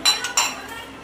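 A few quick metal clinks and knocks as a metal wok with a little water is set on a stove to heat, close and fairly loud.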